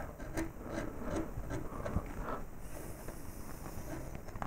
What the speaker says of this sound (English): I could probably take the same gouge to begin with, and just start rounding this edge over like this.